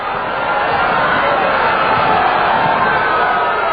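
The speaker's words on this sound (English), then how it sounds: "Southwestern crowd trying to get in it here." A basketball crowd at a Somerset versus Southwestern game cheering and yelling, a dense, loud, continuous roar of many voices filling the gym without a break.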